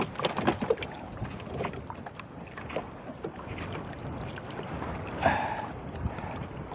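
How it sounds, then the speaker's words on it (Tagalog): Strong sea wind buffets the microphone aboard a small boat during traditional handline fishing, a continuous rough rumble with gusting swells and water sloshing, no voices. "Lumalakas na talaga ang hangin, pambihira."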